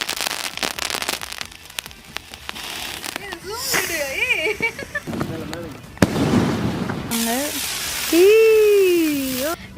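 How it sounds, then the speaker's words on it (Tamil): Sivakasi firecrackers, a digital wala cracker string, going off in rapid crackling bursts with sharp bangs and whistling rising tones, while people talk nearby. "டிஜிட்டல் வாலா வந்து வெடிக்க போகிறோம்"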